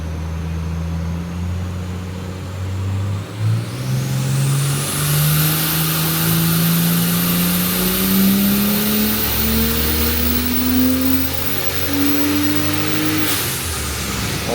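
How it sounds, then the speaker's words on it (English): Turbocharged Barra engine revving hard on a dyno, a steady rising drone as it pulls through the revs, with a loud high turbo spool whistle building over it and cutting off near the end. "It's making sick spool noises."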